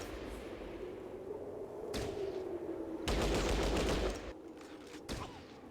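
Gunfire in the tactical game Fallout Tactics: several sharp isolated shots followed by a dense roughly one-second burst of rapid fire, then a few more scattered shots over a low background.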